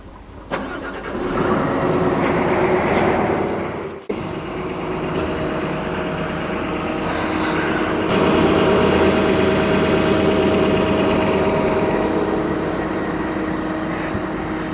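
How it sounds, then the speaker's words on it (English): An excavator's diesel engine runs steadily in a non-hydrogen fuel test, a continuous loud droning rumble close by with a brief dip partway through, no talk. "We'll run the engine for 30 minutes and we'll come back with the results of the fuel consumption"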